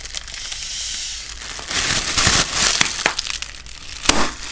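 Bubble wrap is popped by hand up close. Irregular crackling and crinkling run through the clip, broken by sharper snapping pops that come in quick clusters, with no talk.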